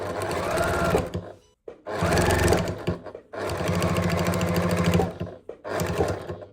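A sewing machine stitches through layered cotton and toweling in loud, rapid mechanical bursts, stopping briefly twice and then starting again, with no voices.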